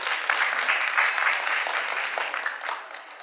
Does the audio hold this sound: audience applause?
yes